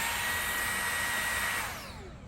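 A Levoit handheld vacuum cleaner runs close by with a steady, loud rushing whine that holds for about a second and a half, then begins to wind down and fades.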